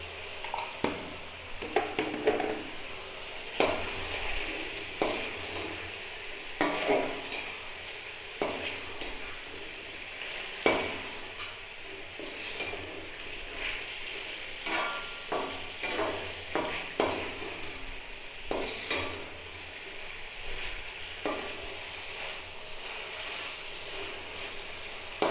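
Chicken seasoned with salt and black pepper being stirred and fried in a pan, with soft scraping stirs and a low steady sizzle throughout, fairly quiet.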